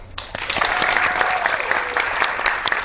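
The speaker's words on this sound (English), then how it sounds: "Let's give our teams one more round of applause before they get to work." Studio audience at a Texas quiz show applauds the competing teams, a dense, steady wash of clapping close by that holds for the whole stretch, with a faint voice briefly audible underneath.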